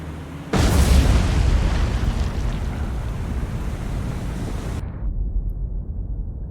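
A torpedo detonates against a ship in the naval video game War On The Sea, Pacific Campaign mod: one sudden, loud boom followed by several seconds of heavy rumbling that ends abruptly.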